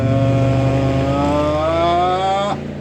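A loud car engine revs steadily as it passes by, its pitch climbing for a couple of seconds before cutting off sharply, close and continuous.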